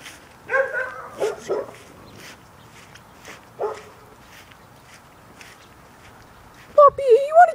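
A few short dog barks and yips spaced apart in a quiet room, with a person speaking briefly at the end.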